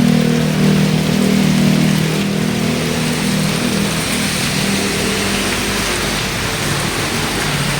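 Rain pours steadily in a dense hiss on a street, likely around the Commonwealth area, while a nearby engine idles and hums underneath, loud and unbroken throughout.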